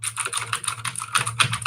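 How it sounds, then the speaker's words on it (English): Rapid computer keyboard typing, close and clear, a dense run of clicky keystrokes with no talking. "you'll get to hear my keyboard, which sounds like this."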